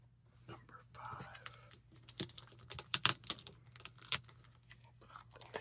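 Judge Dredd comic books being slipped into plastic bags and backing boards, with crinkling plastic, soft rustles and sharp tape pulls close up, under a constant low hum and faint whispering.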